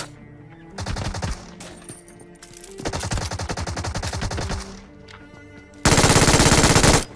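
A new gun fires in the battle royale video game BGMI, with three bursts of rapid automatic fire separated by short pauses, the last burst noticeably louder and closer.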